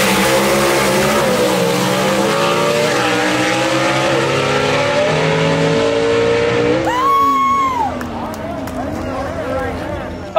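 Gasser drag race cars at London Dragway in London, Kentucky, loud revving engines with shifting pitch under an announcer's commentary, then a sharp high whine and an abrupt drop as the cars launch away.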